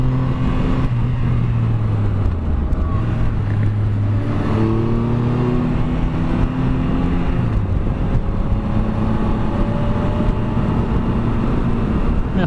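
A 2017 Triumph Explorer XC motorcycle engine drones loudly and continuously, its pitch rising and falling as the rider accelerates and shifts, with no talk.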